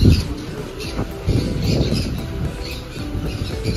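Outdoor birdsong with chirps and cooing calls over a steady background hum, moderately loud and continuous, at a resort on a foggy day.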